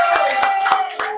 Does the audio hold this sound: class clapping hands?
yes